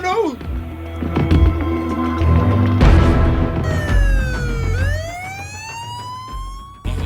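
An ambulance siren wails with rising and falling sweeps, loud and close, amid traffic noise and people talking.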